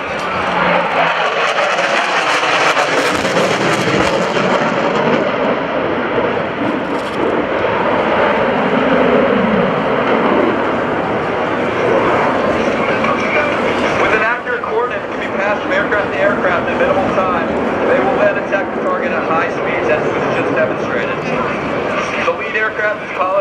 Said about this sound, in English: With the enemy watching, the aircraft departs to your left